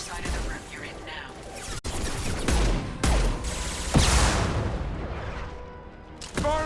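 An impact shot being fired in the video game Mass Effect 2, sharp heavy reports and booming hits spaced a second or so apart, loud and close, amid game ambience with some speech.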